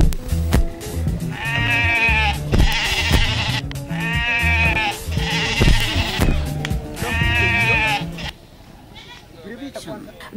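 Several goats bleat in repeated, harmonic calls in a pastoral meat-goat setting, loud and close, with a steady rumble of background noise and clatter underneath until the calls stop near the end.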